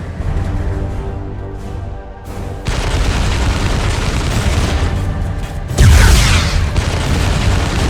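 Booming explosions and bursts of gunfire from the strategy game Dawn of War 2 blend into a dense, continuous battle din, with a louder blast standing out near the end.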